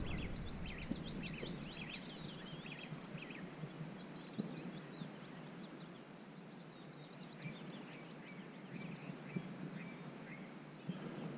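Faint birdsong outdoors on Cold Fell, with small chirps and trills scattered over a steady background hiss, distant and quiet throughout.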